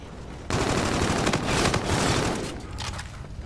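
Rapid video-game gunfire bursts into a loud, continuous volley after a brief quiet start, rattling steadily for about three seconds before tapering slightly, with no voices over it.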